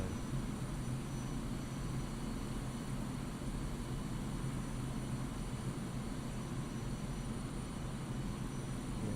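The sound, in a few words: Su-25 Frogfoot engine at full throttle, DCS World video game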